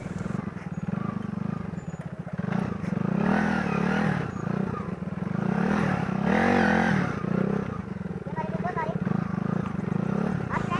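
A motorcycle labours along a steep, dangerously sloped forest road strewn with rocks near Toli Peer in Kashmir, its engine droning and surging steadily throughout with clattering, while voices talk over it.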